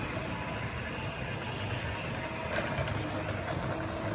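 A roughly seventy-year-old Tri-ang Hornby class 20 model locomotive with worn couplings, wheels and warped plastic runs along its track, giving a steady, rough, whirring rumble that continues without a break.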